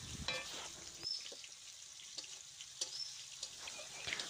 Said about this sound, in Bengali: মশলাটা যাতে পুড়ে না ওঠে তাই জন্য হালকা একটু জল দিয়ে এর ভিতরে কষিয়ে নেব